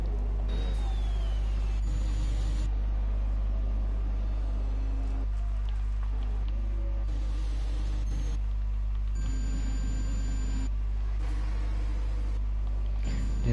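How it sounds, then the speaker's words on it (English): F1 2021 racing game car audio glitching so that only the turbo whine remains, a steady synthetic drone with shifting tonal layers and brief pitch changes, continuous and fairly quiet throughout. "You can only hear the turbo, which is unfortunate"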